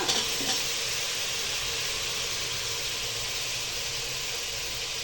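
Cut ridge gourd, kept in water beforehand, tipped into a hot pan, setting off a loud, steady broadband sizzle that holds evenly throughout after a brief initial burst.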